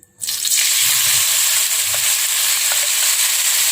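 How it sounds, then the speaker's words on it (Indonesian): Ground chili spice paste for tuna balado sautéing in a pan, a steady close sizzle that starts abruptly and holds loud and even, with faint scraping stirs underneath. "selanjutnya kita tumis bumbu yang kita ini tadi ya, yang kita giling."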